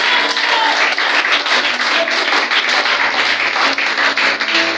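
A church congregation applauds together, a dense, steady wash of clapping close by that holds for several seconds.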